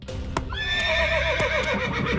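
A horse on a stunt set neighs loudly and close, a long shrill whinny rising and wavering for over a second, with a few hoof clip-clops and thumps around it and no talk.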